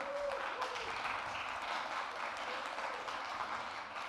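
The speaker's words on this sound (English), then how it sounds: "please welcome us by applause" Conference audience applause at an Avalanche blockchain event, a continuous, fairly even wash of many people clapping, heard at moderate distance with a faint voice briefly audible near the start.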